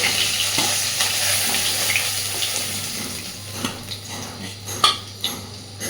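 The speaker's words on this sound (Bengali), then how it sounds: "আর এই একইভাবে আমি বাকি মাছগুলোকেও ভেজে নেব।" Fish fries in hot oil in a karahi, giving a continuous sizzle, with occasional louder spatters and clinks of a utensil against the pan.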